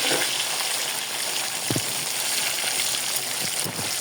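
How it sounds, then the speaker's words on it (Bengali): Marinated tilapia fries in oil on low heat, a close, even sizzle with soft crackles and a few brief bubbling pops. "এটা কিন্তু আমি লো হিটে ভাজতেছি, হাই হিটে না।"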